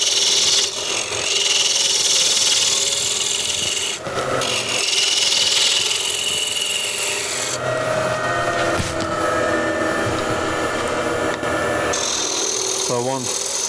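A wooden foot for a cross-grain box is shaped by hand, making close, loud rasping strokes of a tool across the wood in a repeated scraping rhythm with brief pauses between passes.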